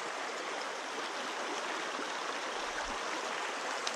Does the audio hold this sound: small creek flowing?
yes